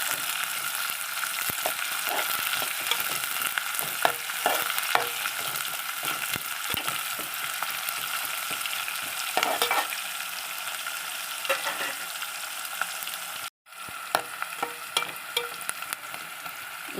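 Mustard seeds fry in hot oil in a pan, a continuous bright sizzle with scattered crackles and pops, close and steady, with one brief cut-out partway through and no talk.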